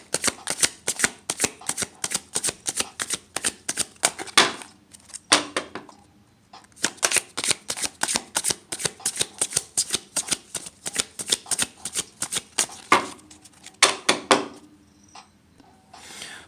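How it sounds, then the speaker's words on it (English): A deck of tarot cards being shuffled by hand in rapid, crisp riffling bursts, close and fairly loud, with short pauses around five to seven seconds and again near fourteen seconds. "I'm not going to be shuffling them for an hour on camera"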